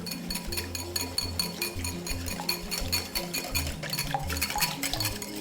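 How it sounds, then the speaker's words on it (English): A honey mustard dressing with pepper whisked by hand in a bowl, giving a steady run of light clinks and scraping strokes against the sides, close up and alone with no talk. "And then you just want to give that a nice whisk"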